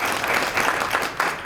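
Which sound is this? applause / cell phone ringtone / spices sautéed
applause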